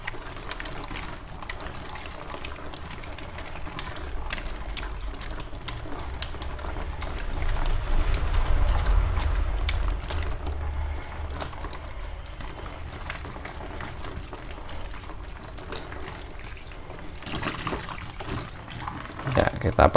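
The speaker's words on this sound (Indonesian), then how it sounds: "Bilas pakai air mengalir." Tap water runs steadily while a human-hair toupee wig is rinsed under it, a continuous splashing flow that swells midway, with speech over parts of it.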